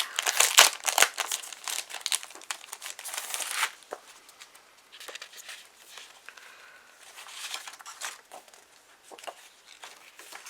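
Decorative paper crinkles and rustles during a craft-supply unboxing, loud bursts of crumpling at first, then softer intermittent handling close by.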